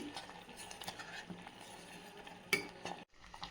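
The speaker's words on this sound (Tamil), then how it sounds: "இதை நல்லா அப்படியே கிளறி விட்டுறணும்." Pongal being stirred in a pan, soft scraping and clinking of a spoon against metal over a faint sizzle, with one sharper clink near the end before a brief pause.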